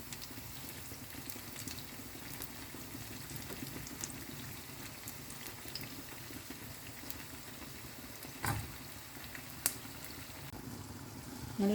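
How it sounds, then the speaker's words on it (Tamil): Vadai deep-frying in a small amount of oil in a pan, giving a steady soft bubbling and crackle that runs continuously, with a couple of brief louder clinks near the end. "நல்லா கிறிஸ்பியாக இதை பொரிச்சுக்குங்க."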